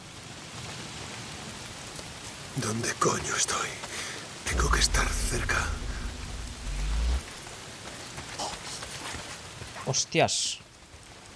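Steady rain falls in the video game Days Gone, a constant hiss of drops on surfaces under someone speaking, with a deep rumble partway through.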